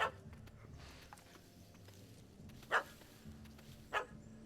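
A dog barks in The Witcher 3 video game, three short, fairly quiet yaps spread across a low game ambience with no talking.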